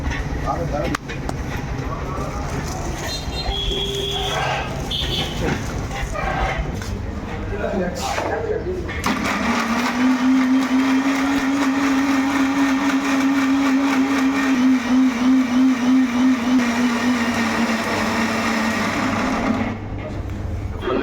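A blender grinds spices for kacchi biryani, whirring loud and steady for about ten seconds after a stretch of background noise, then cutting off near the end.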